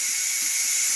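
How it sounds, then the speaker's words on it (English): A Ninja Foodi pressure cooker, used for making egg bites, lets off a steady, loud, high-pitched hiss of steam that stays constant throughout, with only faint low rumbles beneath and no talking. "now, so the steam is lessening and the countdown has started"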